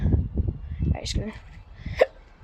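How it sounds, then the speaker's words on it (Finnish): A single short hiccup from a man sounds near the end of brief speech, sharp and close, with talking before it. "mulla on vähän hikka"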